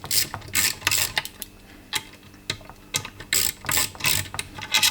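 A ratchet clicks in rapid bursts while bolts are undone under the bonnet of a Toyota GT86, with short pauses between sets of sharp, close mechanical ticking.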